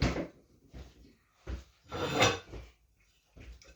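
A kitchen drawer slides open and shut several times, each one a short wooden rub and knock, with a louder, longer scrape in the middle, recorded close and with no voices.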